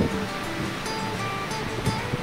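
Gentle ocean waves wash steadily onto a beach at San Narciso, Zambales, a soft, continuous surf hiss with faint wind and no one talking.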